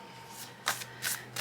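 Tarot cards are shuffled by hand in quick riffling bursts, three short soft swishes close by in a quiet room.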